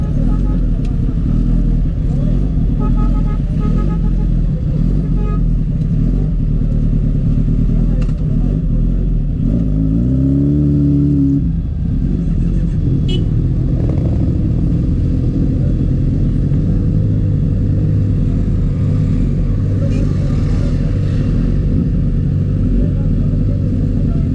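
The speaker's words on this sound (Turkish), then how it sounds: "Amcaların motoru da güzel. BMW." BMW motorcycle engine revving once in a brief rising and falling burst amid the constant rumble of a crowded street gathering, with people talking loudly throughout.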